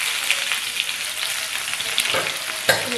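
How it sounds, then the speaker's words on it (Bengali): Chopped onion dropped into hot oil that already holds a fenugreek seed tempering, oil previously used for frying fish, giving a loud, dense, crackling sizzle with a few sharp spits, close up with no speech. "মেথি ফোড়নটা দিয়েছি, এর মধ্যে পেঁয়াজ দিয়ে দেবেন,"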